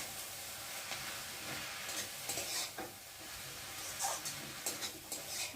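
Water spinach with prawns is stirred and fried in a pan: a soft, steady sizzle broken by scraping stirs and the occasional clink of the utensil, heard close up and fairly quiet with no talking.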